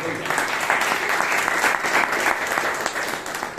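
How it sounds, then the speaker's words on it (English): A room full of people at a Toastmasters club meeting giving a public speaker a round of applause, steady dense clapping throughout, moderately loud. "let us give a round of applause to this gifted public speaker"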